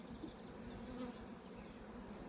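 Honeybees hum on a hive frame of young bees and capped brood, a dense steady buzzing close up with no voices.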